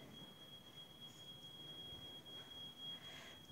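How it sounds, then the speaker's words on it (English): A distant electronic alarm beeps with a steady, thin high tone held throughout, faint over low room and hallway background noise in a historic hotel. "I keep hearing alarms all the time. I'm hearing one now."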